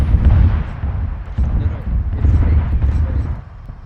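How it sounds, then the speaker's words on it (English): Missile strikes in the video game Arma 3 during a Star Wars Zeus operation, as heavy low rumbling booms that roll on continuously, loud and muffled, with voices heard over them. "You got the missiles coming in."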